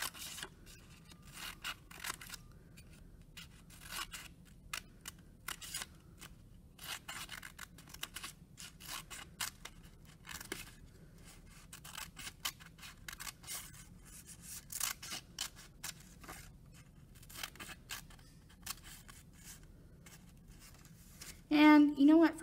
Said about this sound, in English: So I'm cutting right up to that line, right up to that line, and stopping.